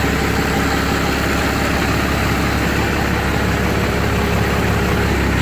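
A 1998 12-valve truck diesel idles steadily after a cold start at about 10 degrees with the block heater plugged in, a loud, constant low rumble and clatter that runs throughout with no talk.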